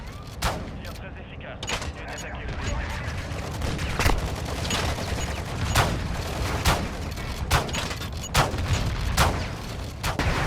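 A pump shotgun firing repeatedly in the video game DMZ, a rapid series of sharp booming shots over dense battle noise with a voice talking underneath.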